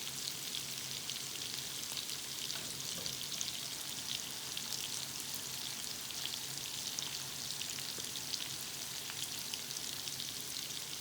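Fish pieces for biryani sizzle and crackle steadily in hot oil in a pan, a dense, even hiss with fine popping that stays close and constant throughout, with a single brief spoken word near the start.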